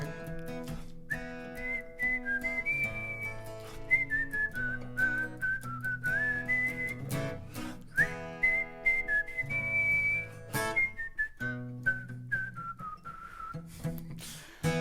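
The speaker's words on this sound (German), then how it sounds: "Könnt ihr auch pfeifen?" An audience at a family concert whistles a wandering, rising and falling melody together, steady and sustained over a low instrumental backing, with occasional louder bursts.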